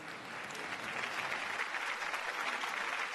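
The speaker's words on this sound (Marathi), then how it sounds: "त्याच्यासाठी एकदा जोरदार टाळ्या झाल्या पाहिजेत" A studio audience at a Marathi TV singing contest claps loudly and steadily for a singer, one dense, continuous burst of applause.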